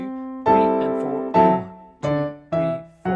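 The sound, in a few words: piano melody with chord pops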